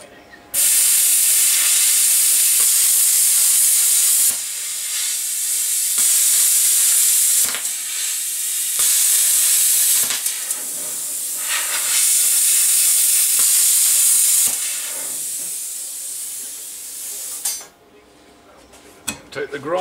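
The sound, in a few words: plasma cutter cutting metal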